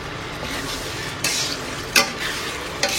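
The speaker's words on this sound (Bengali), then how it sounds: "এই চিংড়ি মাছ বসিয়ে দিয়েছি, মশলাটা কষিয়ে" Prawns frying with spice paste in a pan, giving a steady close sizzle broken by a few sharp scrapes and clinks as the mixture is stirred, with no talk.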